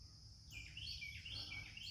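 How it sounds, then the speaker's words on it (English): Birds singing at sunrise, faint high chirps and twittering phrases at some distance over a quiet outdoor background, with no one talking. "listen, hear that bird? Hear the birds?"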